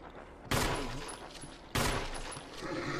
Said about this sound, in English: Shoot him, you got a gun in your hand